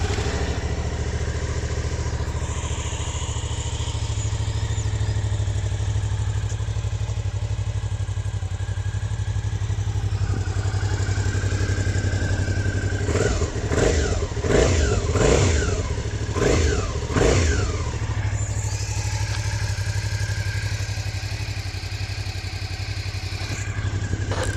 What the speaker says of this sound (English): so this is a 2019 V-Strom 650 standard exhaust sound check.